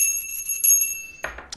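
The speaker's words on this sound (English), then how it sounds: "I'm going to ring the bell that cleanses energy for me and for you" A cleansing bell is struck and rings out with a bright, sustained metallic tone that slowly decays, followed by a short rustling knock near the end.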